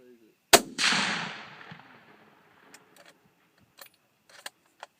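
.243 rifle fired outdoors at two old TVs: one sharp, loud shot with a long rolling echo, followed by faint scattered clinks and taps.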